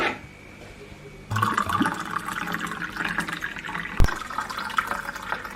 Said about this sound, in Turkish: soğuk su ekleyeceğim